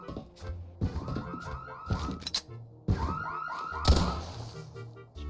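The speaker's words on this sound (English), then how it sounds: "You can use your guns to shoot the alarm, because it gets really annoying." Gunshots hit a blaring alarm in the Roblox game Criminality, with sharp thunks cutting through a wailing, siren-like sweep that repeats.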